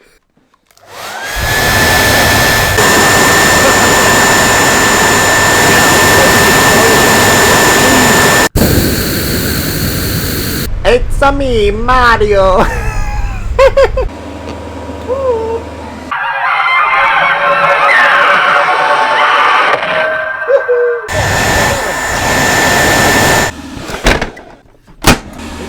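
A hair dryer blows loud and steady for several seconds with a constant whine, then cuts out and gives way to a jumble of other noises, with a brief voice speaking.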